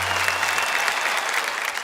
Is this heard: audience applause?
yes